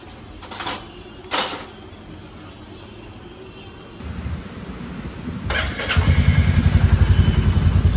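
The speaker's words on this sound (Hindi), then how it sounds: "सुबह सुबह का फर्स्ट कोल्ड स्टार्ट, और अपनी बाइक देखो मस्त चमक रही है।" A motorcycle is cold-started first thing in the morning. A few short cranking bursts are followed by the engine catching, and it settles into a loud, steady idle close by. No one speaks.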